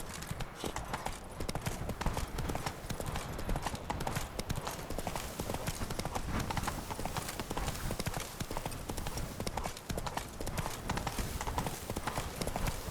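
A horse galloping in The Witcher 3, steady rapid hoofbeats pounding throughout, with a faint whinny and a low voice briefly heard under the clip-clop.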